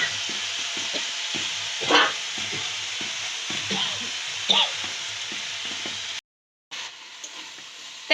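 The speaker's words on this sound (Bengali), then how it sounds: "তো এখন ভালোভাবে নেড়ে চেড়ে নিয়ে এখন নুন আর চিনিটা অ্যাড করে দেবে" Mango pieces stirred and fried in oil with chilli and five-spice for a homemade pickle, giving a steady soft sizzle with scraping stirs and a few louder clinks, briefly cutting out near the end.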